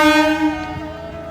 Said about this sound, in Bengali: আর এদিকে ট্রেন ঢুকছে অলরেডি, এই দেখো ট্রেন ঢুকছে।